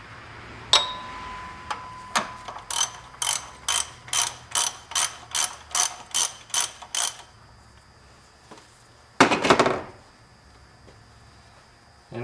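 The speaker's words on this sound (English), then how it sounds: "Now I just got to finish removing that crank bolt." Ratchet wrench turning the crank pulley bolt on a Jeep 4.0 engine, a run of about a dozen sharp, evenly spaced clicking pulls, then a brief burst of rapid clicking, close and loud with no talking.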